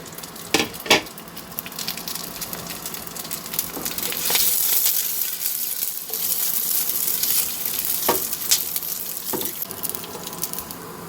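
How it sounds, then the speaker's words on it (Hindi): Snacks fry in a pan of hot oil, a continuous broadband sizzle that swells and settles, with occasional sharp pops and utensil knocks, close and without talking. "चाय के साथ कुछ खाने के लिए यहाँ पर हम लोग फ्राई कर लेंगे"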